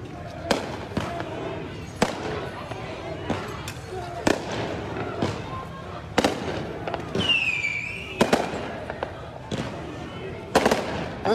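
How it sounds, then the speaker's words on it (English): Fireworks burst repeatedly during a nighttime riot with mass detainments in Brooklyn Heights, north of Minneapolis: sharp irregular bangs and a brief whistling streak ring out over crowd noise and nearby voices. "As you can see, we got fireworks going off."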